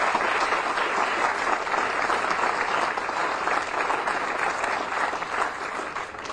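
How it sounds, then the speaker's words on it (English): Sustained crowd applause at a groundbreaking ceremony for a new multimillion-dollar hangar at Chennault, steady dense clapping filling the whole stretch at moderate level, with no voices over it. "Let's give them a round of applause"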